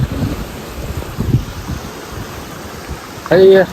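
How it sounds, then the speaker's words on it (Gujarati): Sea waves break on the beach at Diu, a soft low wash of surf mixed with wind buffeting the microphone, ending in a brief louder gust. "તમે આ મોજા જુઓ ખાલી"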